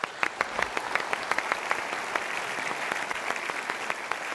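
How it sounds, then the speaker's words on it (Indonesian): An audience at a motivational talk applauds steadily, a dense crowd of clapping with individual claps standing out, moderately loud and continuous throughout. "kita berikan tepuk tangan dulu untuk ibu"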